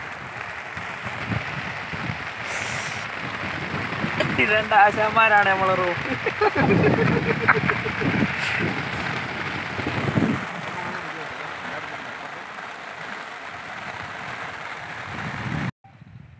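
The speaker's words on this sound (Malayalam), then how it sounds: "അപ്പോൾ നല്ല മഴ ഉണ്ട്." Heavy rain falls outdoors during a fishing trip, a steady broadband hiss heard from under a small roof, continuous beneath people talking throughout.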